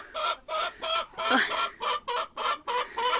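Backyard hens cluck nearby in a quick run of short, close calls with a brief squawk partway through.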